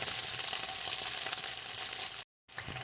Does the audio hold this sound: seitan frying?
yes